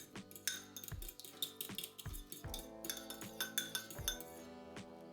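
A spoon clinks rapidly against a bowl while lemon potato salad dressing of yogurt, mustard and lemon juice is whisked, bright close metallic taps in an irregular quick rhythm with no talking.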